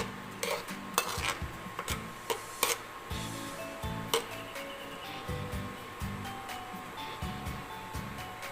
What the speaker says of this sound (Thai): คนไปเรื่อย ๆนะคะ